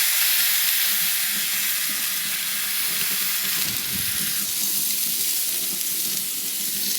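Bacon-wrapped scallops sizzle on a hot Weber Slate flat-top griddle, a loud, close, continuous crackling hiss that holds steady throughout with no talk.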